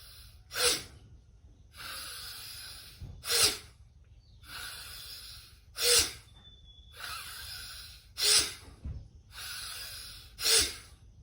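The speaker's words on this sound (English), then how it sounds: "So inhaling deep and rapid and exhaling deep and rapid." Deep, rapid yoga breathing with forceful nasal inhales and exhales. Loud, close, rhythmic breaths come in pairs roughly every couple of seconds, with no talking.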